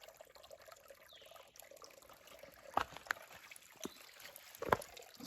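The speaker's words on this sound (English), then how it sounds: "Water comes out." Water trickling out of a pipe set in the ground at a trailside spring, a faint steady dribble with a few slightly louder splashes near the end.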